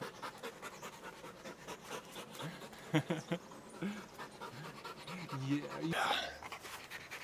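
A dog pants in quick, rhythmic breaths close by on a trek along railway tracks toward Machu Picchu, while someone talks softly to it over the top.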